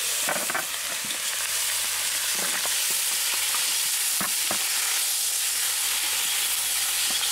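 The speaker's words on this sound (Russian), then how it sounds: "Слегка обжариваю мясо." Pig's head meat fries lightly in a pan, with a continuous hissing sizzle and occasional scrapes and knocks of stirring, close and steady without speech.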